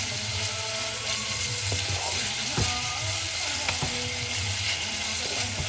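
Vegetables for escabeche sauté in a hot pan with a loud, continuous sizzle, punctuated by occasional scrapes and stirs of a utensil, close and with no voices.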